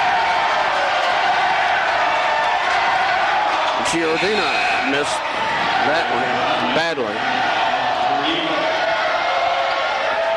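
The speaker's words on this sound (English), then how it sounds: "Crowd hollering air ball" Basketball crowd in a Gate City versus Glenvar high school quarterfinal gym hollers loudly after a missed air ball shot; a steady roar of voices with a few rising shouts sits under close play-by-play commentary.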